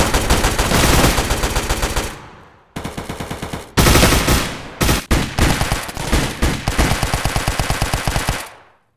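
Rapid AK rifle fire from the Hazmob FPS video game rattles in long automatic bursts, loud and close, broken by brief pauses between strings of shots.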